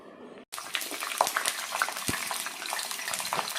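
Vegetables for fried rice fry in a pan, a steady close sizzle running almost throughout with a brief break at the start and scattered clinks of a spatula.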